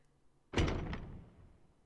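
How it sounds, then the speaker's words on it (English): A door opens with a sudden thunk followed by a short rattling decay, heard alone in an otherwise quiet interior, loud and close. "The door opened and someone entered."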